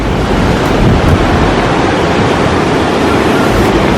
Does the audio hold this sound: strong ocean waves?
yes